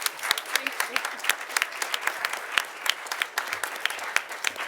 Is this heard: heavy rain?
no